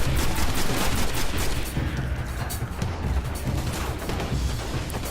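Gunfire in the video game Destiny, a dense, continuous barrage of shots and impacts, loud and close, running without a break for the whole stretch.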